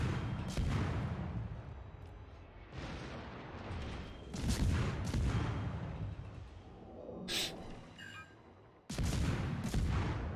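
Heavy naval gunfire from the North Carolina battleship in World of Warships, a series of deep booming blasts and rumbling impacts rolling through the battle, loud and spaced by short lulls, with a sharp crack near the end.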